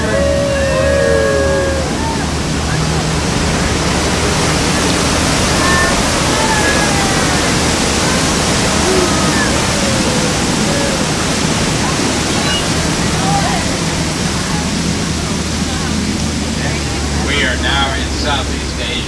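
A loud, steady roar of falling water heard from behind a waterfall on the Jungle Cruise ride fills the scene, continuous and close, with faint voices scattered underneath.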